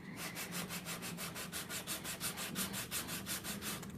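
Fine sandpaper rubbed over a wooden edge of a small dollhouse infant changing table, quick even back-and-forth strokes in a steady rhythm, close and alone.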